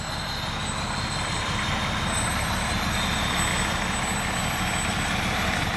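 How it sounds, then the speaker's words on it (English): Fire engine 22 from Lawrence Road rolls by in a Memorial Day parade, a steady heavy diesel rumble and idle drone with faint high whine, continuous and fairly close, no voices. "now we see Lawrence Road's engine truck coming through"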